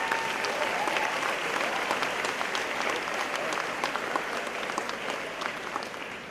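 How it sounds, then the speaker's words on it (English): A graduation crowd at Wayne Valley applauds the district's teachers, a dense and sustained roar of clapping from a large audience that holds steady and fades slightly toward the end. "Let's give them a round of applause."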